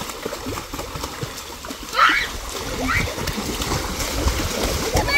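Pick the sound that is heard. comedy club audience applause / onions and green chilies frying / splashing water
splashing water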